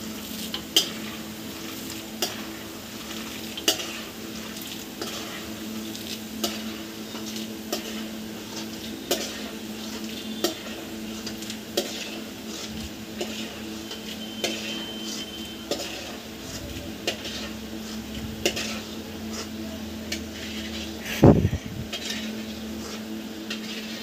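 Roasted peanuts stirred in a hot pan and lifted out with a utensil give a soft continuous frying hiss, broken by regular light scrapes and clinks of metal against the pan and one sharper knock near the end.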